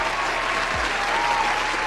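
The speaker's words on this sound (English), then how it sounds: "Give him a round of applause." Steady audience applause, a dense wash of clapping hands that carries evenly through the whole stretch with no voices on top.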